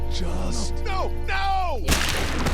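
A single sharp gunshot from The Walking Dead video game bursts out near the end, following a few falling tonal game sounds over a steady low hum.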